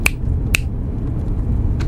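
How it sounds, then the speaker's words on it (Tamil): Three sharp finger snaps ring out alone, two in quick succession and a third after a short pause, close and crisp over a low background hum. "வேணும்னா இன்னும் 4 சொடக்கு போடுறேன்"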